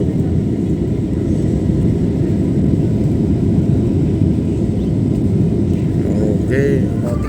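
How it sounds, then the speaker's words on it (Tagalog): Steady broadband roar of an airplane in level flight, heard from inside the cabin, constant and fairly loud, with a person talking briefly near the end. "Pero pag lumebel na yung aeroplano, yan."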